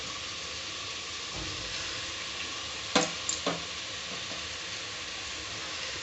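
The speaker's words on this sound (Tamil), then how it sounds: "மிக்ஸ் பண்ணிவிட்டு ஒரு 2 மினிட்ஸ் வந்து இதை வதக்கிக்கோங்க" Cleaned goat intestine mixed into a pan and sautéed for curry makes a steady, fairly quiet sizzle, with a short cluster of sharp clanks and scrapes from a stirring utensil midway, and no speech.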